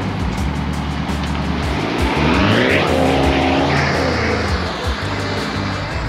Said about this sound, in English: The exhaust is the stock exhaust, except I cut the muffler out.